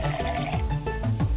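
Water runs from a tap in the video game Mother Simulator, a short steady splashing pour with faint rhythmic gurgles.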